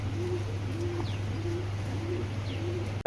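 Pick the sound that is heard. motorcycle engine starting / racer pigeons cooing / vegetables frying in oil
racer pigeons cooing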